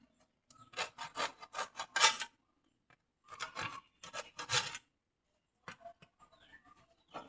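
Hand sawing through a hard, hollow calabash gourd, rasping strokes in three bursts separated by short pauses, close up, with faint scraping afterward.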